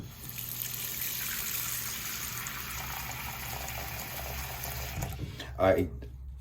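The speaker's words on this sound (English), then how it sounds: "I'm going to close this drain and we're going to run some water in here." Tap water runs steadily into a closed sink drain, a continuous rushing gush with a small bump of clatter near the end as the flow is handled.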